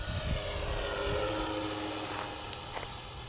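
An E-Flite Beaver 25e RC airplane, just built and on its maiden flight, comes in low with the throttle held open on a windless day: a steady, fairly faint motor drone holds throughout.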